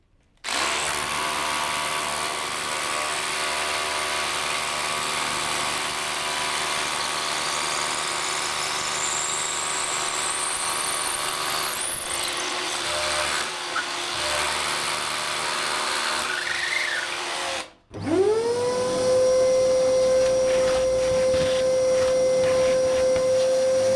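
Power drill boring through larch decking boards through a drill guide on a raised terrace over a concrete slab, a steady loud whine running about seventeen seconds, then a brief stop and a higher, steadier motor pitch.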